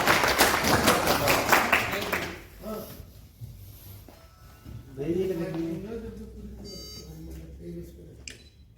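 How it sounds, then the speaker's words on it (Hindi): Audience applause welcomes officials to the stage at a trade association ceremony honoring office-bearers with certificates; dense clapping fills the first two seconds, then fades as someone speaks over a quiet room. "जोरदार तालियों के साथ स्वागत करेंगे।"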